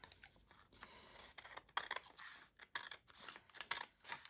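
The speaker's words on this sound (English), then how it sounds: "you just fold it over there and trim off the excess" Scissors snipping through scrap paper to trim away excess, a rapid series of close, crisp cuts and rustles with short pauses between strokes, no speech.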